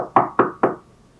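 Three evenly spaced knocks rap on a wooden door, close and crisp, each with a short hollow ring before it fades into quiet.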